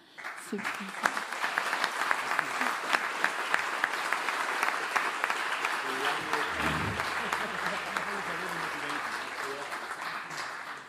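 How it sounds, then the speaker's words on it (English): An audience at a World Mountain and Trail Running Championships 2023 press conference claps steadily and fairly loudly throughout, with a voice starting up faintly near the end. "I ask you for a big applause for this."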